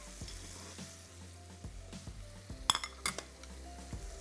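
Minced meat (keema) fries in a pan with a steady sizzle while a utensil stirs and clinks against the metal every so often, fairly quiet and close.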